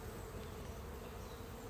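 Honey bees buzz in a thick, unbroken hum around an open hive under inspection, even in level throughout, with nobody speaking.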